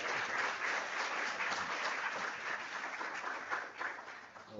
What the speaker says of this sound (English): can I ask for another round of applause for the performance